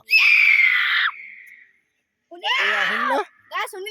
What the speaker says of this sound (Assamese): ইয়াৰ পৰা চিঞৰিব আৰু একদম সিটো পাৰৰ পৰা আমি প্ৰতিধ্বনিটো শুনা পাম